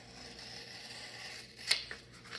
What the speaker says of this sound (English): I'm going to cut it because it's glued to that end paper